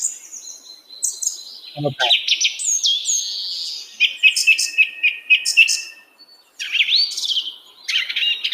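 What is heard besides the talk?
bird chirping sound effect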